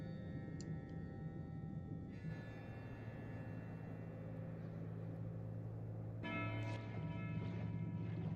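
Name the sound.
bells clanging in Tainted Grail: The Fall of Avalon video game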